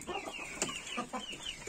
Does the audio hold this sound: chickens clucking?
yes